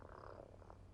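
A cat purrs faintly and steadily in the video game American Arcadia. The low, continuous rumble lasts about a second, with no talk over it.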